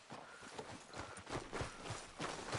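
Horse hooves in Red Dead Redemption 2 clip-clopping at a steady riding gait, an even rhythmic patter of hoofbeats close up, continuous and moderately quiet throughout.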